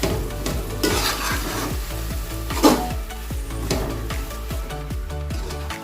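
Bottle gourd halwa with coconut being stirred in a pan, a dense rhythmic scraping of the spoon over a low steady sizzle, repeated strokes roughly every third of a second, close and continuous.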